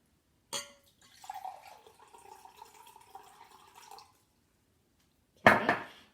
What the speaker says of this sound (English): you're going to fill about 1/4 of the cup with just plain water